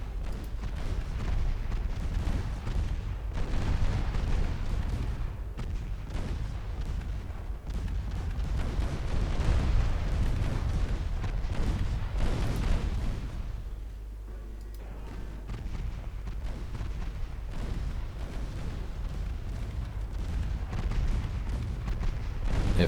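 Warship main guns in the naval game Ultimate Admiral Dreadnoughts fire on transports, a steady series of deep, rumbling booms one after another over a continuous low roar of battle.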